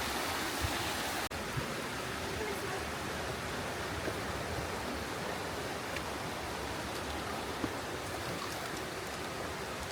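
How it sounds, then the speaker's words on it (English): Water rushing steadily over small pools and waterfalls in Snowdonia, Wales, a constant broadband roar close by with no voices, unbroken apart from a brief knock early on. "there's so many little pools and waterfalls"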